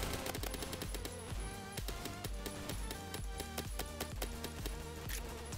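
Rapid automatic gunfire from a gun in the ROBLOX first-person shooter Phantom Forces, a steady stream of loud shots, dense and continuous throughout, with no talking.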